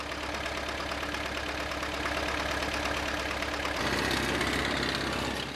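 A logging tractor's engine idles and revs in a steady, loud drone as it spins on frozen, snowy ground in a Siberian forest, and the pitch rises a little partway through.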